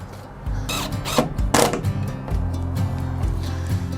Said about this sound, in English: just tightening up with a few extra screws is really kind of pulling it in all the way home